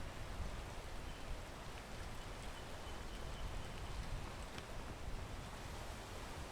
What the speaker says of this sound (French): La pluie, tu peux t'arrêter s'il te plaît, c'est malaise.